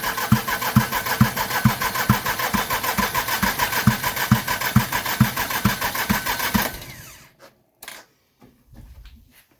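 A Massey Ferguson GC2310 compact tractor engine cranks, catches and runs with a steady, rhythmic thumping at close range for several seconds, then abruptly cuts out, leaving a few faint knocks and clicks.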